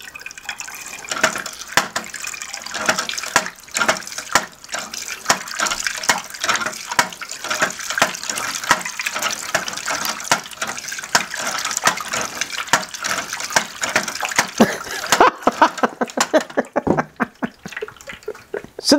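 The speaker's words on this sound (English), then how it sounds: "I have a bottle of tap water and we're going to try it with the tap water." Tap water from a bottle running into a homemade water clock, giving a steady trickling, splashing flow that turns into separate drips near the end, heard alone and fairly close.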